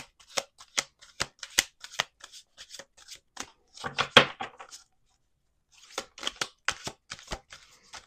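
Tarot cards being shuffled by hand on a table, crisp riffling bursts in quick irregular runs with a short pause before resuming, close and alone without talk.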